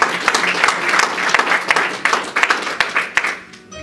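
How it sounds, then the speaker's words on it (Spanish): A church congregation breaks into applause, dense overlapping claps with sharp individual hits standing out, loud and close, sustained throughout before thinning at the end. "¿Cuánto le dan un aplauso a Dios?"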